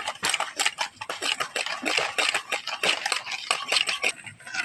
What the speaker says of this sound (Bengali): এর মধ্যে দিয়ে ভালো করে গুলিয়ে নেব